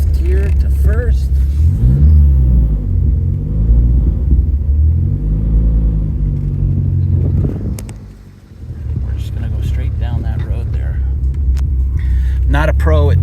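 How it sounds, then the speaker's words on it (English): A 1985 Dodge Omni GLH Turbo rumbles and revs as it downshifts to first gear. The engine pitch climbs, dips sharply, then picks up again, while someone talks over it. "I'm gonna downshift here to 1st."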